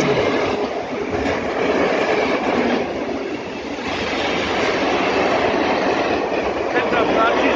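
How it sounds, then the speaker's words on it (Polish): A freight train passes through Bochnia railway station heading toward Tarnów. Its wheels rumble and clatter loudly and continuously along the track for the whole stretch, with voices talking over the noise. "Przejechał pociąg towarowy w kierunku Tarnowa."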